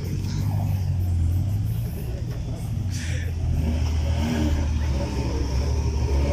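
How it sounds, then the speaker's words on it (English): A car doing a burnout at a drag race event in Tatu City, Kenya, lets out a low, rumbling engine roar with revving swells, while voices murmur in the background. "Do a burnout."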